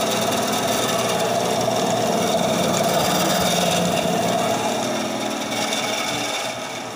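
A TORQ BS250 10-inch band saw runs steadily after unboxing, giving a loud, continuous motor whir and blade hum that holds constant, then dips slightly near the end as it begins to wind down.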